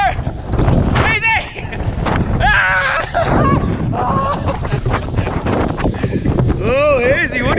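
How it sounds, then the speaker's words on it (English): Strong wind gusting and roaring against the microphone outdoors during a winter evening ride, loud and continuous, with people talking and shouting excitedly over it. "Oh, Izzy, what do you think of that wind?"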